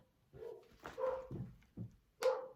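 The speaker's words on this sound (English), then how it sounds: "Dogs." A few dogs bark in short separate bursts, several loud yaps spread across a couple of seconds in a quiet indoor setting, with no talking.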